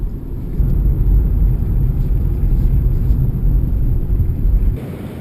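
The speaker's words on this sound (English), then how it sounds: "The wind is really strong." Strong wind buffets a blown-out ocean beach in San Francisco's Outer Sunset, a steady loud low roar and rumble that holds for several seconds before dropping off abruptly near the end.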